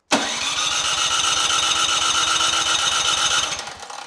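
A Troy Bilt 2420 snow blower engine cranks loudly on its electric starter, a fast steady chugging that runs nearly four seconds without catching, then trails off as the starter is released.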